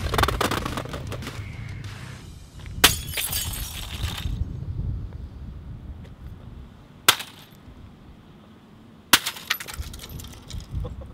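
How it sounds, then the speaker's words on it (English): A sledgehammer smashing glass on a work site, several sharp crashing impacts at irregular intervals with bursts of breaking and scattering debris between them, fairly close. "Always know what you're smashing. Sometimes it might be glass."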